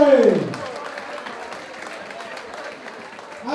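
Audience at a boxing club show in Small Heath applauds the blue-corner fighter's introduction, a burst of clapping and crowd noise that fades to a quieter murmur before swelling again at the end.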